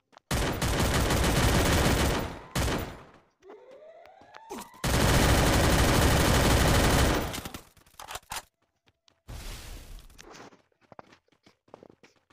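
Free Fire gunfire in a Clash Squad match comes as long, dense bursts of automatic fire, loud and close, separated by short gaps with footsteps and scattered shots.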